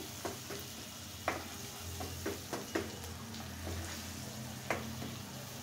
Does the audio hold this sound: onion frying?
yes